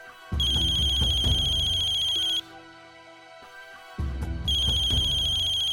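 A phone ringtone plays in two loud bursts of a bright repeating melody, separated by a brief quieter pause with a soft lingering tone.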